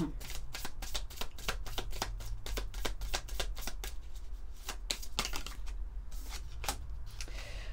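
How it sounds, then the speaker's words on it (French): Oracle cards being shuffled by hand, a quick string of crisp riffling flicks and slaps in an even rhythm, close and fairly quiet over a low background hum. "j'ai envie de prendre quelques cartes de l'oracle Graines d'amour"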